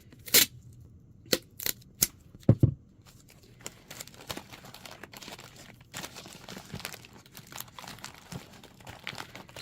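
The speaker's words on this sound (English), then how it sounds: "I'm gonna tape his midsection." Tape crinkling and tearing while a handmade no-clay spooky Halloween tree diorama is wrapped, with several sharp rips early on and softer rustling after, all close up and quiet.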